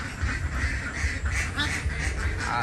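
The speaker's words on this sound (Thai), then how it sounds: "เป็ดเล้านี้นะครับ อยู่ประมาณ 800กว่าตัวนะครับ" Dense chorus of quacking from a pen holding over 800 ducks beside a house, many overlapping calls in a busy, continuous stream, close and fairly loud.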